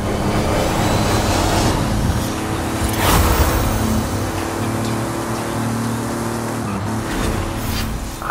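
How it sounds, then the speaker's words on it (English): A Jeep Trailcat engine roars continuously in a racing video game, loud and steady, with low revving drone throughout and a brief surge partway through. "I will be able to take this Jeep Trailcat."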